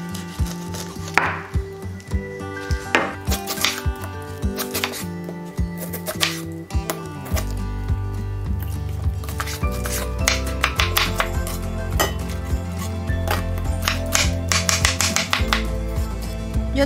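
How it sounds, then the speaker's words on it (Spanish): Pineapple being cut into small pieces for fruit punch, giving repeated knife chops on a board, close and fairly steady, with occasional clinks of utensils and a low hum underneath. "Yo trato la manera de cortar los pedacitos de piña un poquito pequeños."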